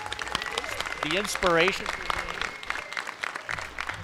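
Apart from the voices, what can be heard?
audience applause at a comic convention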